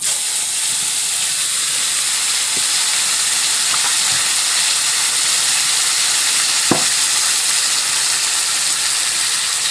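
Spices hitting hot tempering oil give a loud, continuous hissing sizzle with a steamy roar, steady from start to finish, broken only by a few faint clicks, and no voices.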